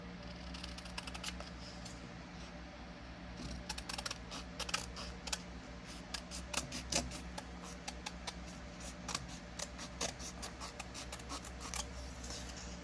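Scissors snip through paper for a collage in a quick, uneven run of crisp clicks, close and fairly quiet with no talking.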